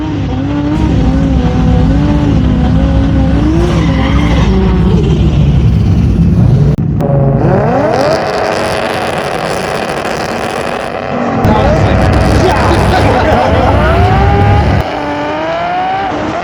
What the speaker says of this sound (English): I play my racing videos, my GTR